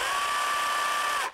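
A jigsaw running at slow speed, a steady buzzing hum like a sewing machine that holds evenly for about a second before cutting off abruptly.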